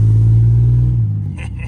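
A Dodge Dakota pickup truck engine roars in a loud, close rev that holds steady and then drops away, with a little wind or rattle toward the end.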